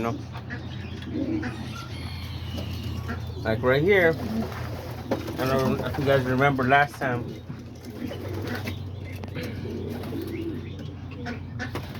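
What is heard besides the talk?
homing pigeons cooing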